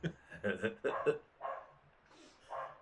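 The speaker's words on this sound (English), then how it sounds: "For as little as that little sucker is, man, his bark is sharp" A small dog barks sharply several times in short, piercing bursts close by, with people talking over and between the barks.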